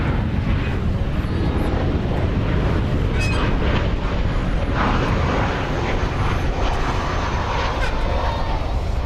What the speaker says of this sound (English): a 787-8 Dreamliner. So here comes the flight from Mexico.